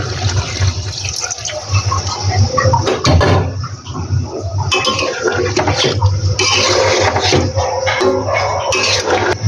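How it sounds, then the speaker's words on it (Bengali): Water pours into a pan of sautéed cauliflower, eggplant and potatoes in a loud, rushing, splashing stream that runs for several seconds, close and continuous. "এখন পরিমাণ মতো পানি দিয়ে দিলাম"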